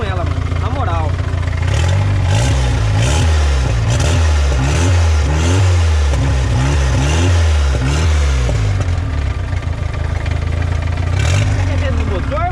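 A turbocharged VW Gol engine with an abnormal noise is revved repeatedly in quick, rhythmic bursts. It is loud and near throughout, with a rough, uneven undertone between throttle blips.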